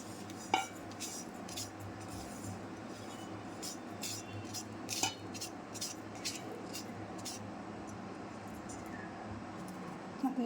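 Hot roasted semolina scraped from a kadhai into a pot, with scattered metallic clinks and scrapes of a spoon against metal vessels over faint background hiss, close but fairly quiet.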